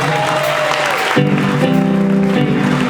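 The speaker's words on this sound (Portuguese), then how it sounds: "Chuva de palmas para o Senhor." Applause at a church gathering of a women's association, brief clapping that gives way after about a second to sustained musical tones, likely keyboard or organ, playing over the remaining claps.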